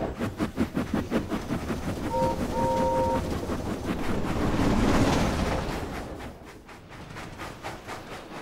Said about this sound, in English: Toby steamed slowly through Sodor. Gordon huffed and puffed impatiently behind him.